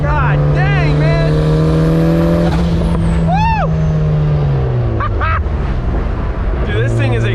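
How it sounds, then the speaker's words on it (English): A built 400 hp turbocharged Mazda Miata accelerates hard on the street, heard from inside the car as a loud, steady engine drone with rising whines and turbo chirps, with someone talking excitedly over it. "There's no better sounding thing than a turbo Miata."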